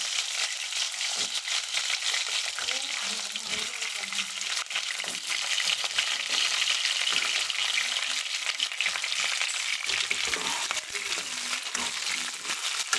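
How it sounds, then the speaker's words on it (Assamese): Potatoes and onions fry in oil in a pan, giving a steady broadband crackling sizzle with a few stirring scrapes. It holds fairly even throughout, with no talk. "এতিয়া এই আলু আৰু ৰঙালাওখিনি তেলতে ফ্ৰাই কৰি ল'ম।"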